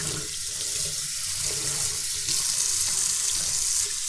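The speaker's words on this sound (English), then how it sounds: "So I will use warm water, not super hot, but warm water" Warm tap water runs steadily from a faucet into a sink to rinse polishing pads, a continuous near splashing hiss with no talk.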